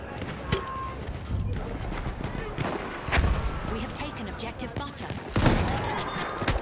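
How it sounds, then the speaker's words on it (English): Enemy machine-gun bursts crackle through a chaotic World War I game battle at Achi Baba, sharp volleys and blasts repeating amid shouted voices, with a heavy impact near the start and another loud burst late on. "Spotted a machine gun!"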